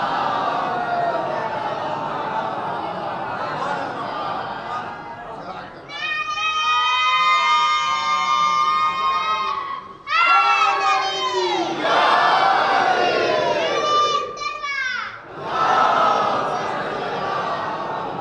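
A crowd at a Shia majlis mourning gathering chants religious slogans in loud bursts, rhythmic call-and-response shouts rising and falling in waves between stretches of a speaker's voice.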